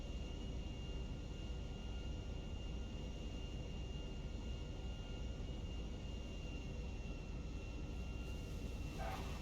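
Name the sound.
airplane flying and landing in GTA V video game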